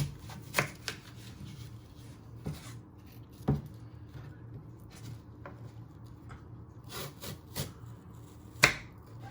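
A knife chops fruit in half for mince pies, giving a handful of sharp, isolated taps and clicks on a board between quiet stretches, close and fairly soft, with faint handling noise.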